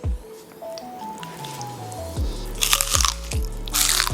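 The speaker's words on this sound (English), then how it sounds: "Oh, that's a good crunch test." Crunchy food bitten during a crunch sound test: a series of sharp, loud crackling bites with brittle snapping bursts, coming in quick succession close to the microphone, with some tonal background music underneath.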